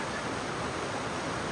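Swift water rushing through the pools of Tallulah Gorge in northeast Georgia, a steady, dense, unbroken roar with no voices.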